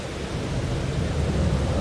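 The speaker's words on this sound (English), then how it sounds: "It's still raining." Steady heavy rain with a deep rumble of thunder in the Farming Simulator 22 video game, a loud continuous wash of noise with no speech.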